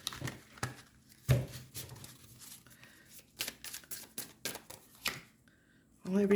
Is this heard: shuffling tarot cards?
yes